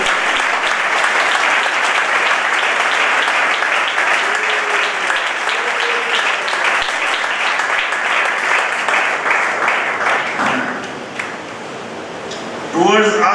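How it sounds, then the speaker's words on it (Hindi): A congregation at an Urdu Bible sermon breaks into sustained applause, a dense, steady wash of clapping that dips briefly near the end before picking up again. "तालियां बजाएं खुदा की।"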